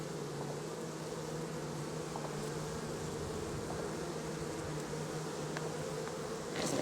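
Honeybees buzz in a crowded hive with brood frames, a steady low droning hum at close range and no talk.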